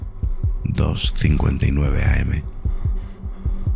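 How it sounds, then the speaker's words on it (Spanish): A heartbeat sound effect in a horror narration thuds in a steady, close double-pulse rhythm, continuing beneath a narrator's voice. "Mi corazón late con fuerza."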